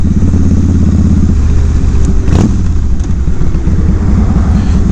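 Large motorcycle over 800cc being ridden, a loud continuous engine rumble with steady low throb and wind noise throughout, close up and without talk.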